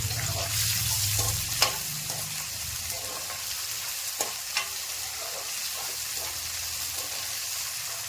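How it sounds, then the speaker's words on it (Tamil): Ingredients for a lake fish curry are sautéed in a pan, giving a continuous moderate sizzle with a few sharp stirring clicks and scrapes scattered through it. "நல்லா வதக்கிடுங்க"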